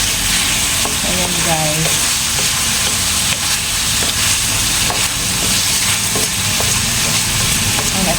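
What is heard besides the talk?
stirring chicken frying in a pan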